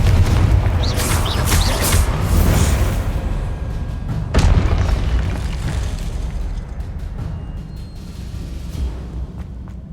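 A Confringo fire spell from the video game Hogwarts Legacy goes off with a loud booming blast, trailed by more bursts and a rumbling roar that slowly fades.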